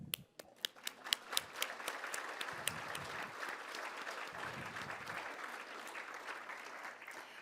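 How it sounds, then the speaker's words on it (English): Applause for volunteers at a talk event starts with a few separate sharp claps that quickly build into steady, fairly faint applause from the room. "And a round of applause for all of you volunteering."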